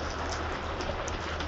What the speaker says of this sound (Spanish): procedemos a regar, ¿sí? Preferentemente en forma de lluvia